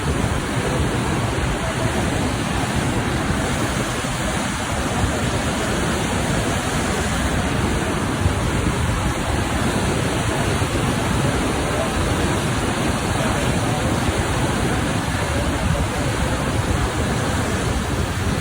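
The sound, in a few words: fast-flowing flood water of the Ravi river at a barrage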